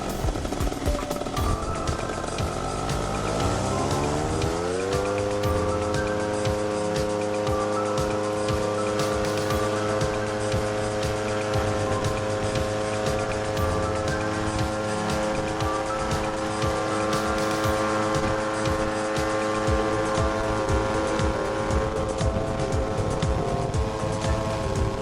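A paramotor engine spools up from a rough idle to a steady, loud, close full-throttle drone for takeoff, holding a constant buzzing pitch for the rest of the run.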